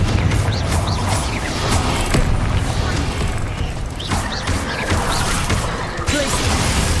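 Confringo spell explosions in the video game Hogwarts Legacy, loud crashing blasts and whooshes layered over dense battle noise, with a voice shouting spell names over the chaotic, continuous combat.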